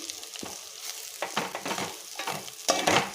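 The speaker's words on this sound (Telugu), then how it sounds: "ఒకసారి ఫ్రై చేద్దాం" Beans fry with chilli powder in a pan, giving soft sizzling and irregular scraping stir strokes that grow louder toward the end, with no talking.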